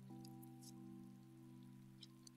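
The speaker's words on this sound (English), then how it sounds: "I love the rain because it means I don't have to water the crops." Rain falling in the farming video game Paleo Pines, a soft, faint patter over a steady humming music drone, with no voices.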